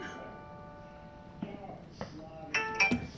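Small bell sound effect, a few light dinging tones in the final second, moderately loud and clear over quiet background with some earlier faint tones.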